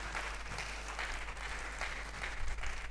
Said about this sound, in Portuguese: Podemos dar uma salva de palmas para o Senhor Jesus?